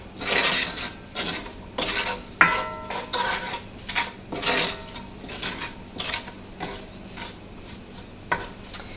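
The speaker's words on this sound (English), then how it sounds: "Add a stir." Vegetables, including onions seasoned with salt and pepper, are stirred in a pan for spinach artichoke dip, giving repeated close scraping strokes of a utensil against the pan over a light sizzle, in an uneven rhythm.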